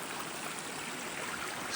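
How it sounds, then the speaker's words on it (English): Small streams run through a gully below a mountain hut on a high plain, giving a steady, close, broadband rush of flowing water with no voices. "There's a couple of streams coming in."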